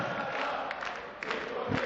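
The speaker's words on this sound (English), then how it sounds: "the crowd have just raised their voices to sing his name" A darts crowd at the Saarlandhalle in Saarbrücken chants the name of player Nico Blum, a dense, continuous wall of voices with a few louder swells.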